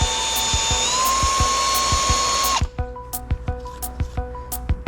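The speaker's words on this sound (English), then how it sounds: "So you use a hand drill, just going like such." A hand drill whines at a high pitch for a couple of seconds while chamfering metal on a 350 crankshaft, then stops, leaving a series of light metallic clicks and ticks.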